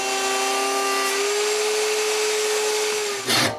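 A power tool whines at a steady pitch as it cuts grooves into wood for window dividers, ending in a short louder burst of rough cutting noise.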